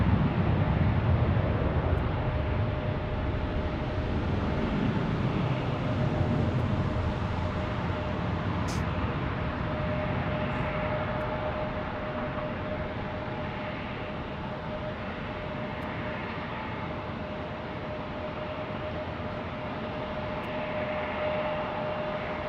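A WestJet airliner taking off at Phoenix Sky Harbor airport, a sustained jet engine roar heard from a distance, with a steady tone running through it that slowly fades as the plane climbs away.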